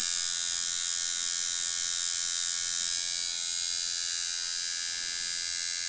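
A Pope Irons T3X tattoo machine runs slowly at 5 volts with a 3 round liner, giving a steady, close electric buzz with a high whine that holds level throughout.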